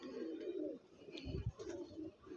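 A red-eyed pigeon coos close by in soft, low repeated phrases, with a brief throaty burst in the middle and quiet between calls.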